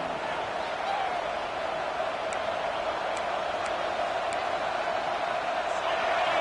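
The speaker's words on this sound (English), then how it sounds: "This crowd, full throat, splitting the eardrums and letting them know it's going to be a long day" Stadium crowd at an LSU football game roars in a dense, continuous wash of noise, steady and loud throughout with a few faint high ticks on top.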